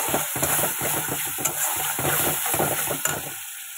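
Spices sizzle steadily in oil in a pan while a utensil stirs and scrapes in quick repeated strokes, fading near the end.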